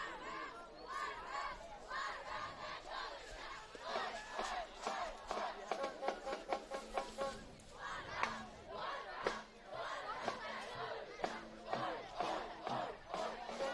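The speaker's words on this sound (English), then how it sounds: "Have a rowdy crowd here." A rowdy crowd of high school football fans roars and shouts continuously at a night game between the Mustangs and Grizzlies, a dense swelling wall of voices with rhythmic chant-like bursts rising and falling throughout.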